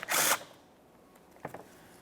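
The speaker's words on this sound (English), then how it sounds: "We'll remove each of those mounting bolts and the shield." A power tool spins briefly on 10mm mounting bolts holding a plastic shield panel on a 2010-2013 Kia Forte Koup 2.4L, one loud short whir followed by a fainter burst after a pause.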